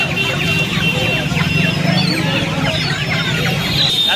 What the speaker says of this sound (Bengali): এগুলো কী মুরগি আছে দেখুন আপনাদেরকে অস্ট্রেলিয়া মুরগি দেখাচ্ছি